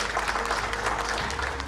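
Sustained applause from an awards-ceremony audience, dense and steady clapping that continues evenly throughout, fairly close and alone without talk.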